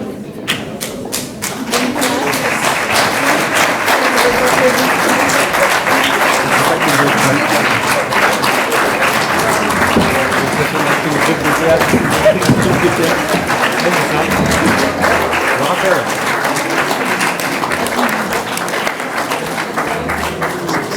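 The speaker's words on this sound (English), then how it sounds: "round of applause, comme on dit en anglais." A large conference audience at a French-language anniversary event for a solidarity finance organisation breaks into sustained, dense applause that fills the hall steadily for the whole stretch.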